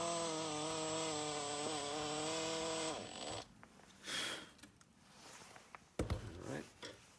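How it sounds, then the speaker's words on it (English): A power drill with a 1/4 inch bit bores into a metal reinforcement skid weight plate for a Yokomo RC car, whining steadily for about three seconds before stopping, followed by scraping and handling clatter. "I'm just going to drill a little more with this"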